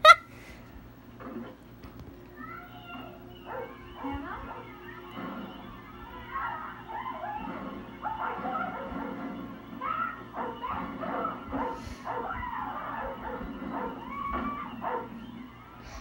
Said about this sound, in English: You left the dog in there, dummy.